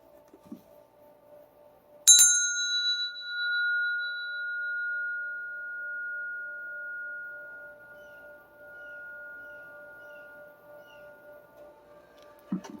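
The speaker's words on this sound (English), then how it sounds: "Here's bell 3." A single bell strike, sharp at first, then a long, faint, steady ring that slowly fades over about ten seconds.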